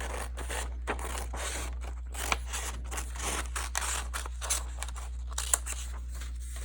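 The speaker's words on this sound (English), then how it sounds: "you're gonna get your scissors and you're gonna cut first this horizontal line that goes across." Scissors snip through paper in a steady run of short crisp cuts along a straight line for a paper craft, close and fairly quiet, with no talking.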